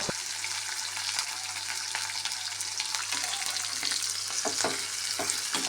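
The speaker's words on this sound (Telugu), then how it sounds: "ఇది వేసిన తర్వాత ఎర్రగడ్డని బాగా మగ్గనివ్వాలి, కలుపుతూ" Chopped onions and two chillies fry in oil in a pan for a chana bada curry, a steady close sizzle with scraping stirs breaking through now and then.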